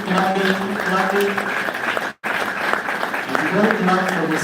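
Applause from a conference audience at an annual anti-corruption conference, steady dense clapping that fills the room and carries on under a voice, with one brief cut partway through.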